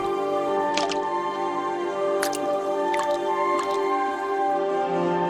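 Water droplets drip and soak into a surface, a few soft, separate drip taps spaced seconds apart over a steady tonal background.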